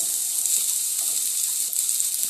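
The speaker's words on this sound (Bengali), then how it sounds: "এই তেলের মধ্যে একটু ভেজে নেব প্রথমে পেঁয়াজটাকে দিয়ে দেব আর রসুনটাকে দিয়ে দেবো" Onion and garlic frying in hot oil, a dense continuous hiss of sizzling that holds steady and close, with no talking over it.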